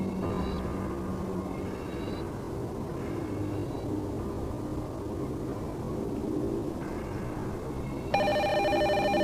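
Telephone ringing in a warehouse in the game Urban Runner, heard as faint repeating electronic ring tones over a steady dense background hum, with a louder brighter tone near the end.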